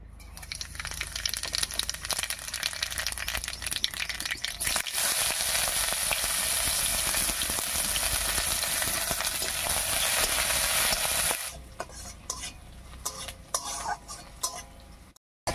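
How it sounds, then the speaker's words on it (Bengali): Nigella seeds and chopped onion hit hot mustard oil in a wok with a loud, dense sizzle and utensil clatter. After about eleven seconds it settles into quieter crackling. "তেল গরম হয়ে গেছে, তেলের মধ্যে দেবো 1 চামচ মতো কালো জিরা আর একটা পেঁয়াজ কুচি।"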